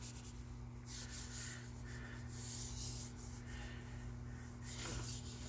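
Soft, steady hand rubbing of paper pressed down onto a Gelli printing plate, quiet repeated swishes over a constant low electrical hum.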